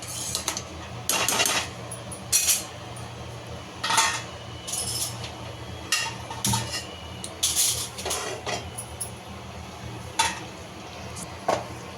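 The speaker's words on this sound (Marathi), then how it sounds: "आपण मसाला पाव जे आहे ते शेकवून घेऊया इथे." Split masala pav buns toast with butter in a pan, quiet sizzling under repeated sharp clinks and scrapes of a metal utensil against the pan, scattered irregularly and up close.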